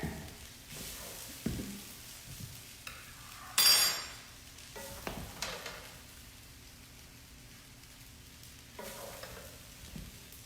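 Veggie fried rice being served from a pan onto a plate, with a loud burst of scraping and clinking of a spoon against the pan and a few softer knocks amid faint sizzling, no talk.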